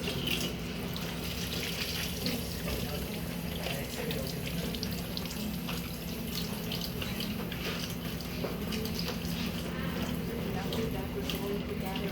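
Tap water runs steadily into a sink while hands are washed during a nursing bag-technique demonstration, a continuous close splashing hiss with faint voices in the background.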